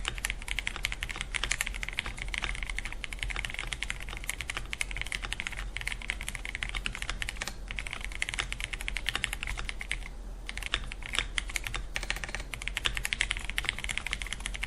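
Continuous typing on an Akko 5057S Dark Knight mechanical keyboard with lubed switches and unlubed stabilizers, a steady close patter of key clacks with no voices.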